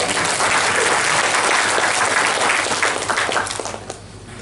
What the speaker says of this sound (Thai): ช่วยปรบมือยืนยันให้กำลังใจ